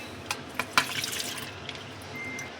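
Water pours and splashes into a bowl, a few sharp splashes at first settling into a gentle trickle, close by.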